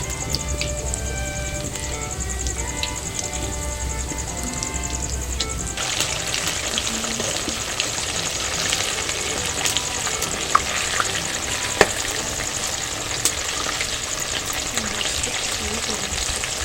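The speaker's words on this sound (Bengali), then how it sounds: "উল্টে পাল্টে গোল্ডেন কালার করে ভেজে নেব।" Onion rings deep-fry in a pan of oil with a steady, dense bubbling hiss that keeps going at an even level, broken by a few sharper pops and clicks, close up and with no talking.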